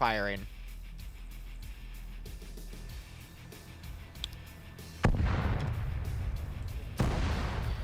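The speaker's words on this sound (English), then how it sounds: "Oh, I hear artillery firing." Artillery fires in a Warhammer 40K scenario played in Arma with Zeus, heard as distant booms and cracks rumbling under quiet talk, with two heavier blasts landing near the end.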